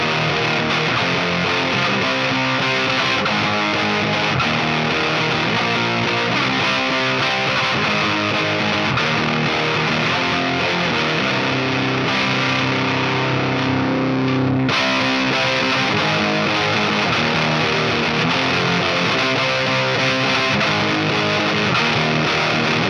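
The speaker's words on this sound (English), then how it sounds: "This is going to be the standard Rat distortion sort of thing." Electric guitar played through a RAT pedal set for high-gain distortion, a dense, saturated sustained riff that stays loud and continuous throughout with no talking.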